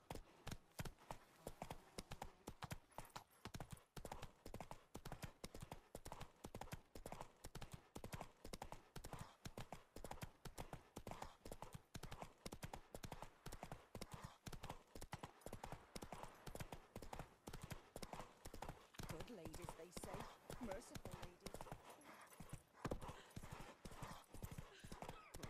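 Roach, a horse in The Witcher 3, gallops in a fast, steady clip-clop of hooves that carries on unbroken for about twenty-five seconds, close and fairly quiet, with no voices over it.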